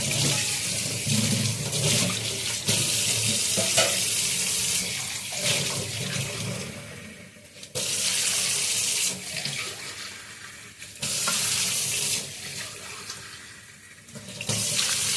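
Water runs steadily in bursts into a cooking pot, a broad hissing splash that stops and restarts a few times, close by with no voices.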